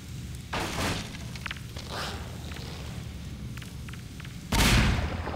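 Two heavy grenade blasts boom in Half-Life 2: Episode 2, one about half a second in and a louder, closer one near the end, with faint thuds and footsteps between them.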